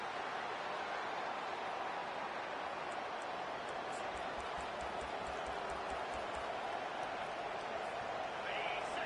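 A stadium crowd at a college football game at NC State roars steadily and densely throughout, a loud, continuous wash of massed voices and noise with no break.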